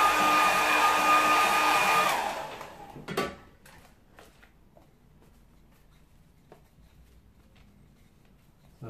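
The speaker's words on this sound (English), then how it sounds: "I need to dry it so I can put another layer on just to make it dark" A hair dryer blows on a watercolour painting, a loud steady whirring for about two seconds before it switches off, followed by quiet handling noises and faint taps.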